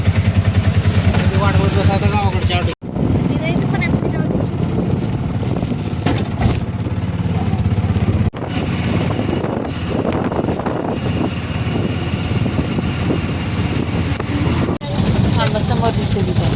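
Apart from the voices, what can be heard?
auto rickshaw ride with engine running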